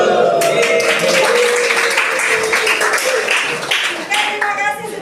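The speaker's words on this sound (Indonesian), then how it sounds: "tepuk salut" Dense applause and clapping from a class group, loud and steady for about five seconds, thinning slightly near the end.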